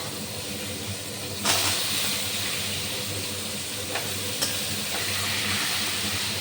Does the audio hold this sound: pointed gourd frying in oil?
yes